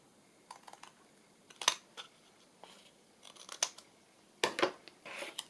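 Scissors snip through a paper envelope in a few sharp, close cuts, with quiet paper rustling between the separate bursts of trimming.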